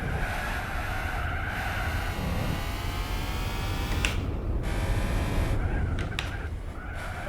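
A race car in Gran Turismo 4 brakes hard, its tires squealing in long, sliding screeches under a constant engine roar. The squeals rise and break off in short bursts as the car skids through the corner.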